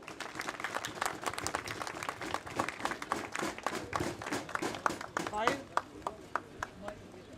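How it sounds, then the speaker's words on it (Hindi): A convention audience in Lahore welcomes Qayyum Nizami with applause. Scattered, uneven claps start moderately thick and thin out into a few separate, sharper claps toward the end, with some voices murmuring underneath. "भरपूर तालियों में इस्तकबाल कीजिएगा कय्यूम निसामी।"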